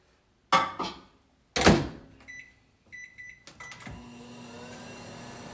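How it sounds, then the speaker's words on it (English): Microwave oven heating french fries: a thunk of the door closing, beeps from the keypad, then a steady low hum of the oven running, close and alone. "here's the french fries, I'm gonna microwave for like 30 minutes"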